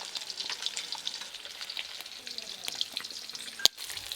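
Rohu fish fry in hot oil in a pan with a dense, continuous sizzle and crackle, broken near the end by a sharp clink, with no voices.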